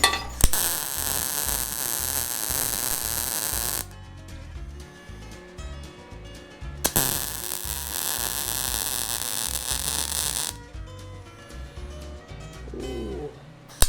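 Nuts are welded onto a bracket for a snow tractor's cab mounts, making two long, loud, steady crackling bursts of several seconds each, separated by quieter pauses with a low hum.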